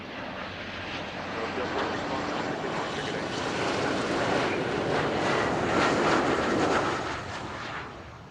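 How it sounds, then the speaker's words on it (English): A loud, steady roar of airliner jet engines at Zurich Airport swells and holds for several seconds, then begins to fade slightly. "And you can hear the United engines"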